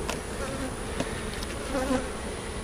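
Honey bees buzz around an opened hive in a bee yard, with drone comb broken at the bottom, making a steady, close, dense hum with no talking.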